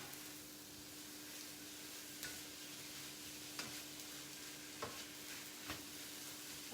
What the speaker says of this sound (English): just about ready to stir in the shrimp